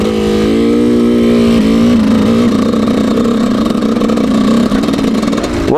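Enduro motorcycle engine on a ride in the Auvergne hills, running loud and continuous with a steady mid-pitched drone, rising in pitch as it accelerates and holding steady through the throttle changes, no talk.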